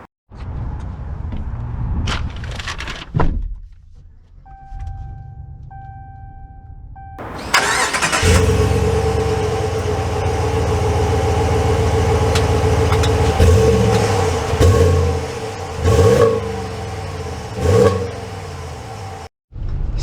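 A 2021 Ram 1500 Laramie pickup cranks and fires up, then settles into a steady, close, loud idle with a few brief revs, after some quiet clicks and a short chime.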